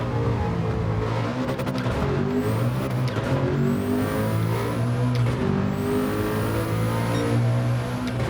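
A Nissan race car's engine drones continuously in the Gran Turismo 7 racing game, a loud sustained roar with rising whines as gears climb, shifting pitch through the run with no speech over it.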